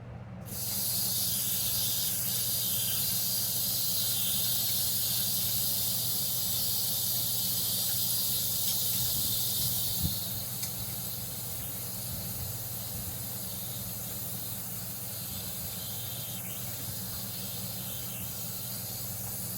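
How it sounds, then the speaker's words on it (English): Tap water runs steadily while hands are washed before baking bacon-wrapped jalapeño poppers, a continuous loud hiss that eases slightly partway through, with no talking. "I'm gonna wash my hands"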